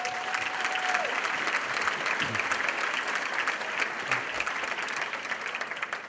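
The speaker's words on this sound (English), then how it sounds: "Let's give him another round of applause" A large gala audience gives sustained applause for assemblyman Felix Ortiz at a conference dinner, a dense even roar of clapping at steady level throughout.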